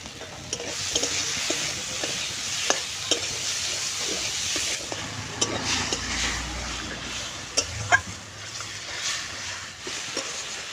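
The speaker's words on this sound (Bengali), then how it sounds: "মটরশুঁটি আর আলুটা মশলা দিয়ে কষানো হয়ে গেছে" Peas and potatoes sautéed with cumin powder and salt in a pan for Bengali tangra fish jhal, a steady close sizzle and hiss with scraping stir strokes and occasional clinks, no talk.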